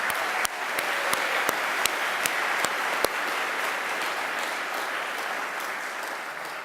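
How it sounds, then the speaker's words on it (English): An audience at a 2018 Project Search graduation ceremony applauds the student speakers. Dense, even clapping fills the hall, with a few sharp claps standing out near the start, and no voices over it. "So if we could give them a round of applause."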